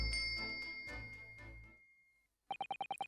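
Bell cord pulled in the courtroom mystery video game The Great Ace Attorney Chronicles, a sustained ringing chime that fades out, followed by a quick run of six bright, evenly spaced dings.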